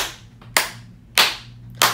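Bright, close hand claps spaced evenly in a slow counted beat for a children's T-Rex song, each a single crisp smack, heard alone without talking.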